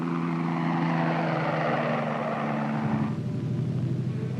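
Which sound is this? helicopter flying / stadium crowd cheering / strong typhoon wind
helicopter flying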